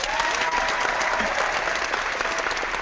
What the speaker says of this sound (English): I'm only going to clap once.